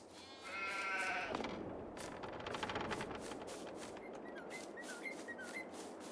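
Sheep bleat inside a sheep barn in a realistic farm simulator video game, several bleats layered over a steady ambient bed with brief chirping and clattering, fairly close and with no talking.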